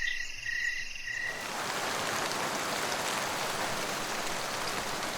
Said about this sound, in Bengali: শেষ রাতের দিকে তুমুল বৃষ্টি শুরু হলো।